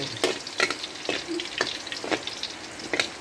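Garlic frying in a pan until golden, alongside squid stir-fried with cucumber: a loud, close, continuous sizzle broken by regular sharp scraping strokes of stirring, roughly every half second.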